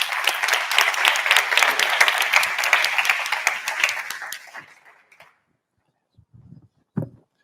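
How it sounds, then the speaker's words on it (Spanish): Audience applause at a BCNspiracy science talk, a full round of clapping that holds strongly for about four seconds, tapers and stops, followed by near silence with a few faint knocks and one sharp thump. "Un aplauso, por favor, para Jorge."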